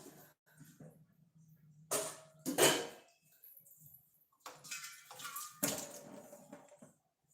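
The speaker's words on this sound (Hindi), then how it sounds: "ये जो हमारा पेस्ट है वो थोड़ा सा गाढ़ा लग रहा है, तो इसमें हम लोग ऐड करेंगे थोड़ा सा पानी।" Water splashes and pours in a few short bursts into a thick paste of rice and green peas in a kitchen bowl, with clinks of a utensil between.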